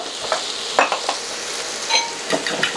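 Eggs being whisked with salt and freeze-dried chives for scrambling, quick scraping and clinking of a utensil against the bowl in irregular bursts over a steady hiss, close and without voices.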